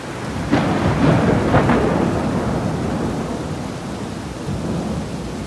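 Heavy rain pours steadily while a deep rumble of thunder rolls through, strongest early on and fading into the downpour.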